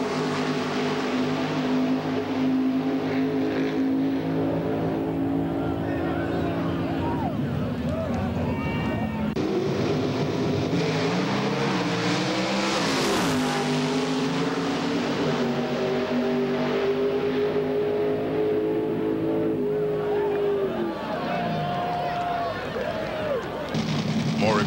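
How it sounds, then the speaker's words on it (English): Nitrous door slammer drag racing cars at a quarter-mile strip around 1989-92, engines roaring loud and sustained with revving pitch sweeps and shifts, a dense continuous blare with an announcer talking over it. "Another look at exciting Nitrous Door Slammer action."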